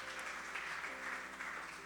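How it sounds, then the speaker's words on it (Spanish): Applause for the Lord from a church congregation, a steady wash of clapping at moderate level with faint talk beneath it, held for a couple of seconds. "Dele ese aplauso al Señor."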